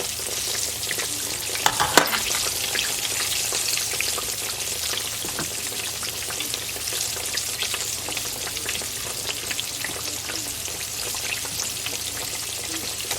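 Green tomato slices fry in a hot pan, sending out a constant crackling sizzle with scattered pops and sputters, steady and close, with no talking.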